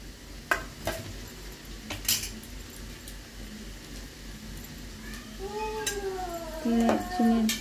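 A utensil stirs sugar into hot oil in a pan, with a few sharp metallic clinks and scrapes over a quiet background, and a voice briefly heard near the end.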